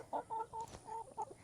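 A large goose gives a run of short, nasal honking calls in a quick irregular rhythm, close and moderately loud outdoors on a farm, with no talking.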